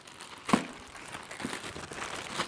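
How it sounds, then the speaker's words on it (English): Rolled plastic bags handled up close, crinkling and rustling throughout with a sharper crackle near the start. "I have a whole case of these rolled plastic bags"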